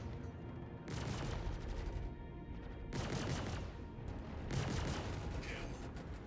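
Bursts of spaceship weapon fire in the Star Citizen game, several loud broadband volleys in quick succession with a steady ambient hum between them.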